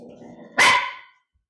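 A single loud dog bark rings out over a quiet room hum, then fades into silence.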